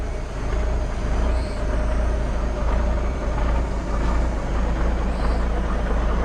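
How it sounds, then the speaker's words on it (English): Heavy trucks rumble outside with a steady, loud low drone, engines running throughout alongside a truck left idling nearby, with faint higher hiss traces and no talking. "Hopefully you can hear me over the trucks."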